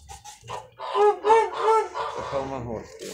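Several roosters at a market fair in Kropotkin, Russia, cluck and call loudly up close, their harsh cries overlapping in a busy burst, with a voice briefly in the mix.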